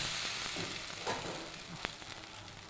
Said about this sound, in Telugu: నేనైతే దోశలు వేస్తున్నా ఫ్రెండ్స్.